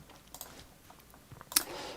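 Typing on a computer keyboard, soft scattered key clicks at first, then a sharper burst of louder taps near the end, faint and close by with no talking.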